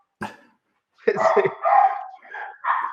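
Excited dogs bark and yip close to the microphone during a video call, one sharp burst followed by a longer run of overlapping barks and whines.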